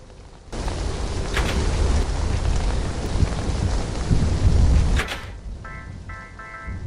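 Steady heavy rain with a rumbling roll of thunder in a video game, broad and loud, ending in a sharp crack before the storm quiets to softer rainfall.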